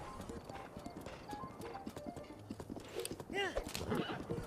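In the video game Breath of the Wild, a horse gallops with a steady, rapid clip-clop of hooves, then gives a clear, rising whinny near the end.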